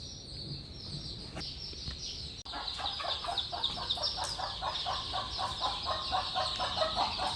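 Chickens on a village poultry farm cluck and chirp in quick, repeated calls, faint at first and then denser and steadier after a short break, with no voices over them.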